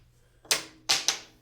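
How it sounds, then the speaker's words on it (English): A set of keys is tossed onto a table saw's flat top: three sharp metallic clatters in quick succession, close and fairly loud against a quiet, faintly humming shop. "I'll throw some keys on here."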